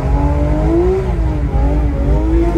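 A Porsche GT3 RS engine pulls hard on an Italian mountain road, its loud, steady drone rising through the gears with two quick shift dips, close and continuous with no talk.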